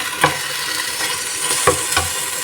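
A spoon stirring ripe papaya halwa with added sugar in a hot pan, soft scraping strokes over a low sizzle, with a few distinct louder scrapes.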